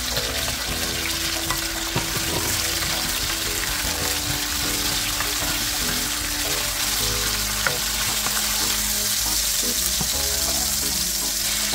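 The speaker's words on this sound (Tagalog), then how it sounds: "gigisa natin yung ating sibuyas, kamatis at bawang. Gigisa lang natin siya guys hanggang sa lumabas yung aroma niya" Onion, tomato and garlic sautéing in a pan for ginisang ampalaya, a dense continuous sizzle that stays loud and close throughout, with faint stirring.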